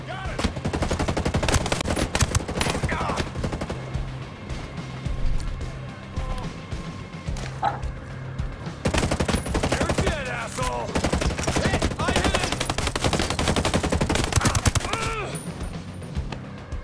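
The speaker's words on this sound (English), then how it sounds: "Are you getting shot at?" Video game shootout with dense, rapid gunfire: loud bursts of automatic fire and sharp individual shots, broken by a brief lull before the shooting resumes at full intensity. Faint voices sit underneath.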